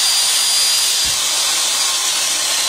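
A Hitachi power saw fitted with a 180 to 190 mm blade runs continuously at loud, close range, a steady high-pitched whine with no pauses and a brief low thump about midway.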